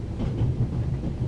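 A low, rumbling train runs steadily with a faint rhythmic rattle, loud and close, with no voices over it, in the video game The Raven - Legacy of a Master Thief.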